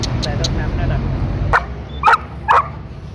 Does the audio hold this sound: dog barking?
yes